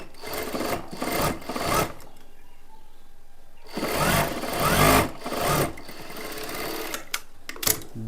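A sewing machine stitches a blouse in bursts, loud rapid mechanical whirring runs separated by quieter pauses with light handling sounds, close up and without speech.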